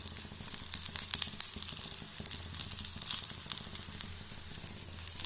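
Eggplant bhujia fries in hot oil, giving a steady, soft sizzle with faint crackles and occasional stirring scrapes throughout.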